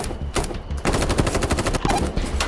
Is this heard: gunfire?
yes